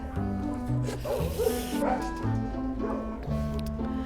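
Several dogs of different sizes and ages at a shelter bark and yip in overlapping bursts, with whimpering mixed in, close and busy, and a person talks faintly among them.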